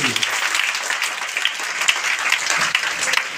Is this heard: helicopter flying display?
no